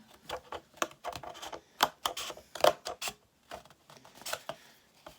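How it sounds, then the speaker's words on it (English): Scissors slowly and gently cutting through paper or card during a springtime craft, giving a run of short, crisp snips with small pauses between them, close and fairly quiet with no talking. "And then I'm going to use scissors, just gently, just quite slowly too."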